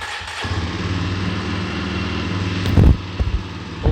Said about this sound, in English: Hope you can hear the sound of this bike.